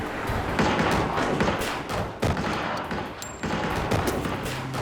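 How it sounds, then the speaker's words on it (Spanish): Gunfire during a violent bank robbery shootout, a shooter firing repeatedly in a dense, loud barrage of overlapping shots and thumps that keeps going with barely a pause. "el tirador siguió disparando"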